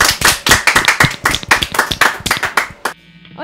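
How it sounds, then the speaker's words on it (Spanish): A live audience gives a burst of hand clapping for a band at a music session, dense and near, lasting about three seconds before cutting off to a quiet room. "Un fuerte aplauso para ellos"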